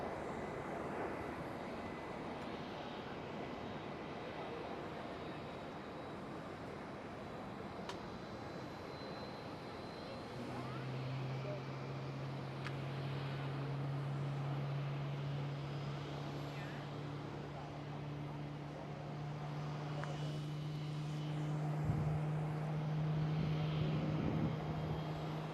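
A China Southern cargo jet taxis at Amsterdam Schiphol with a steady, low engine drone that swells and grows louder toward the end, under a speaking voice.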